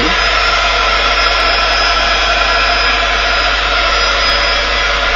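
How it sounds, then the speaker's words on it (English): A craft heat gun drying water-based ink tints blows a loud, steady, close-up roar that holds constant from start to finish, with no talking. "I'm going to do is to bring my heat gun in, so we can just dry this to do the next stages"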